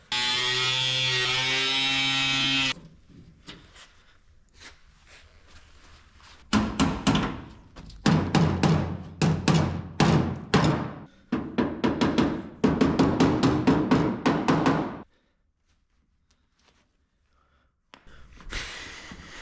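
Welding along the body line of a 1966 Mustang quarter panel, with a steady buzzing run first, then a string of short, loud, crackling bursts separated by brief pauses and a quiet tail.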